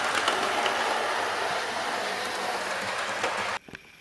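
A model train on a loft layout runs through a newly laid junction, giving a steady rushing rumble of wheels on track for about three and a half seconds before it cuts off abruptly, leaving faint small clicks.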